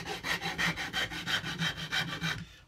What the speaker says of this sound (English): I'm going to continue with the round file and then, of course, the sandpaper